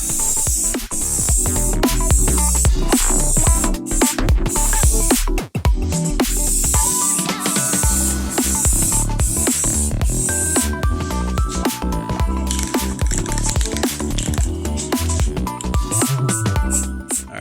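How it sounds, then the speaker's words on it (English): Repeated short hissing bursts from a spray paint can applying light coats to a car, with music playing loudly underneath throughout. "Give her a little test spray and then just do some light coats."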